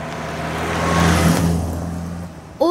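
A car drives past on a road, its engine swelling as it approaches and fading as it moves away, heard alone with no talk.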